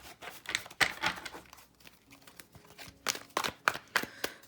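Tarot cards are shuffled close by in uneven bursts of crisp riffles and soft slaps, pausing briefly midway before another quick run of shuffles, with no talk.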